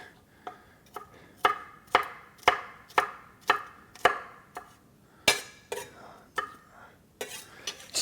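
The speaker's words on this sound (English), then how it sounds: "it's a lot of work chopping all these vegetables" Knife chopping green pepper and other vegetables on a cutting board, a steady series of sharp, close chops about two per second, with a short pause before the cutting resumes.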